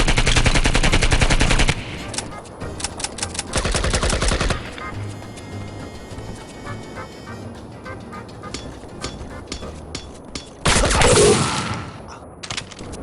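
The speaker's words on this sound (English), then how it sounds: "thanks to Ricola Uri for informing me that the Mini-Me actually stands for Mini-Mitrailleuse, the official name for that particular type of Belgian light machine gun." Belgian light machine gun (Mini-Mitrailleuse) firing in the video game Project IGI, long sustained automatic bursts with pauses between, loud and close, plus a few sharper single shots in between.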